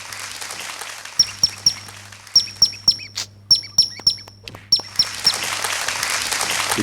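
A person whistles an imitation of a squirrel's call as a string of short, sharp chirps in quick groups of three or four. The chirps are close and clear over a steady background hiss.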